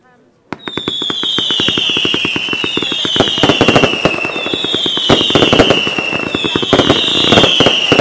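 A rapid series of sharp bangs with whistling crackle trails from a 30-shot fireworks battery, a steady barrage of shots going off close by for several seconds.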